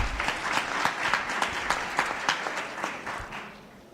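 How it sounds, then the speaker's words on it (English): An audience at a women's annual dialogue claps for behind-the-scenes staff, a moderate crowd whose individual sharp claps stand out in an uneven rhythm, no talking. "Can we clap hands for them?"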